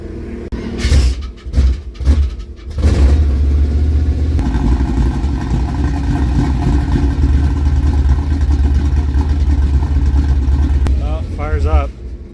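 A car engine at a swap meet at Portland International Raceway cranks in a few short bursts, then catches and settles into a loud, steady running rumble. A voice briefly speaks near the end.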